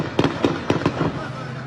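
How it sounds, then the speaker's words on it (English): Several sharp gunshots crack in quick succession, about five bursts over under two seconds, loud and close with brief echo after each. "Those are gunshots."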